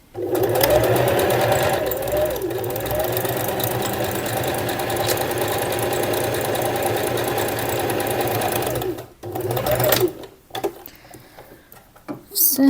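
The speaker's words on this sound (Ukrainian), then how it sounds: "Починаємо строчити." Sewing machine stitching elastic to a bra clasp, running steadily with a busy mechanical whir and tick for about nine seconds before stopping, followed by a few softer handling sounds; speech is faint or absent.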